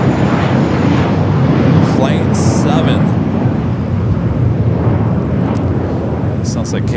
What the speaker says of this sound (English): Air Tahiti Nui, the Dreamliner coming from Paris, up next for arrival